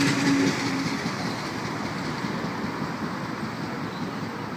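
A Sydney Trains service on the Bankstown Line, running from Sydenham, gives a steady, loud rumble of wheels on rails with a faint clatter, continuous throughout with no voices.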